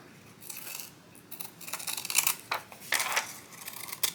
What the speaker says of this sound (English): it's okay to use the scissors here